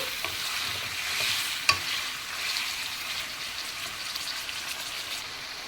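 Curry leaf dry chicken fries in oil while being stirred, giving a steady close sizzle with light scraping and one sharp utensil clink, and no talking.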